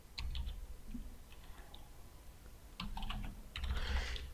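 Typing on a computer keyboard, close and fairly quiet: short bursts of clicky keystrokes separated by brief pauses, with a quicker cluster of keypresses at the end.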